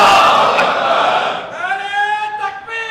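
Crowd at a Muharram religious gathering shouting a slogan in unison: a loud massed roar of voices, then a clear, drawn-out chanted response from many people together.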